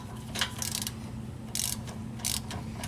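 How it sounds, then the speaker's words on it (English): A 3/8 inch ratchet with a short extension and 17mm socket tightens bolts on a Honda Accord rear wheel bearing hub, giving a few quick close clicking bursts over a low steady mechanical hum. "I'm just going to take my 3/8 inch ratchet, a short extension with a 17mm socket"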